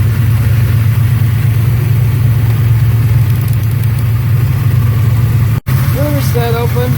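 A 1972 Chevelle, abandoned and left sitting for several years, idles steadily with a deep, continuous rumble at close range. It runs uninterrupted apart from one brief dropout, and a few faint higher tones appear near the end.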